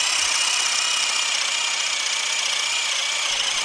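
A Milwaukee M18 Fuel Gen3 drill driver running on its high setting bores through a 4x4 wood post, giving a loud, steady, high-pitched whine that holds unbroken from start to finish with no speech.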